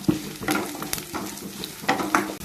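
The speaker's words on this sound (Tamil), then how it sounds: "சோம்பு கல்பாசி இதே எண்ணெயில் போட்டு நல்லா வதக்கணும் கருக விடாமல் வதக்கணும்" Fennel seeds and kalpasi (stone flower) sauté in hot oil for an eggplant and dried fish curry, giving a steady sizzle with repeated scraping stirs of a spatula across the pan.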